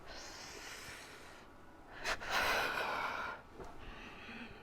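Deep breathing during a yoga stretch, a long drawn inhale and a fuller audible exhale, close and fairly soft against a steady hiss.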